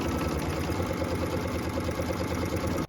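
Embroidery machine stitching an ornament shape onto stabilizer, a fast steady mechanical whirr with rapid rhythmic needle chatter, close and continuous, stopping abruptly at the end.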